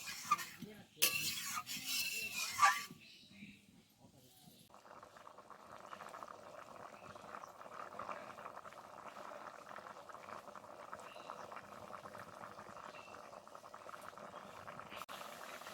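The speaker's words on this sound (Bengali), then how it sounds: "এবার জল দিয়ে খুব ভালোভাবে এটাকে ফোটাবো" Water simmering in a pot of snail curry with potato, a soft steady bubbling that settles in after some brief louder stirring and clatter at the start, close and fairly quiet.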